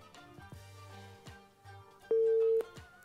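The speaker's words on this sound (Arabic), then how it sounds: "قطع يا مريم، كلمينا تاني حبيبتي" Telephone busy signal on a call-in cooking show after a caller's line drops. It sounds as a short steady electronic tone among faint studio sounds, clear and close.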